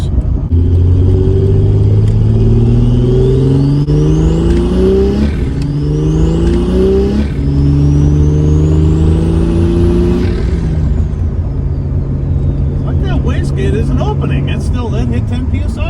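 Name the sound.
turbocharged car engine accelerating under boost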